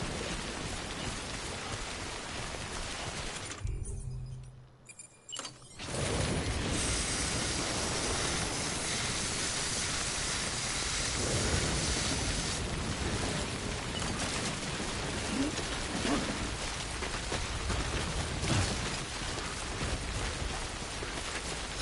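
Rain pours down in the Death Stranding video game, a steady dense hiss of falling drops that cuts out briefly near the start and then resumes, continuous and fairly loud with no talking.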